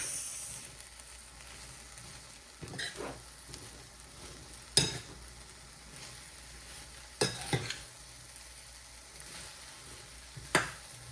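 Chopped okra fries in hot oil for Gujarati bhindi shaak. A soft, steady sizzle carries throughout, broken by a few louder scraping stirs of the spoon against the pan. No one speaks.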